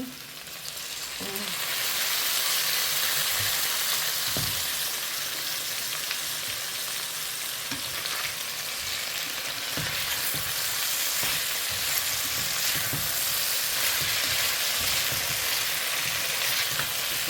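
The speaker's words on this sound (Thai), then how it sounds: "เราก็เอามา นาบกับกระทะ" Pork belly searing loudly in a frying pan, a steady close sizzle with scattered pops and crackles the whole way through.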